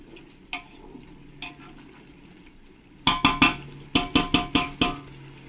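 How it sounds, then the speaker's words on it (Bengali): A spoon stirs a biryani mixture with salt in a pan, first with a few light scrapes, then a quick run of loud, rhythmic clanks and scrapes against the metal. "দিয়ে সবকিছুর সঙ্গে ভালো করে মিশিয়ে নিতে হবে"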